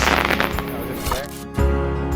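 A firework bursts and spreads in the air, a loud crackling blast that fills the sound with dense noise, followed by a sharp thump and a continuing rumble of crackle.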